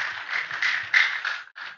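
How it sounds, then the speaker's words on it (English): Applause from the audience at the close of a college of engineering week public lecture, dense and steady for just under two seconds with a brief gap near the end. "Once again, a round of applause."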